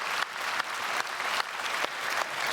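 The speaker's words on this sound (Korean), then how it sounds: "전국 장로연합회에서 여러 장로님들께서 오셨는데 크게 박수로 환영하겠습니다." A church congregation applauds to welcome visiting elders at a special dawn service, sustained dense clapping throughout with brief surges, no voices over it.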